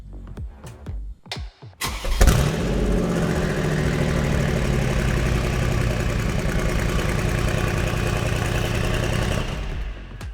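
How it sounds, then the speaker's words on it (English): A combined ML63 engine built from two engines, installed in a 6x6 G63, cranks briefly then fires up and settles into a loud, steady idle that runs for several seconds before cutting off. "I dropped it in the 6x6 and I got it to fire up."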